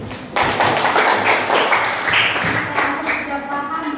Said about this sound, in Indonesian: Pintar, tepuk tangan dulu.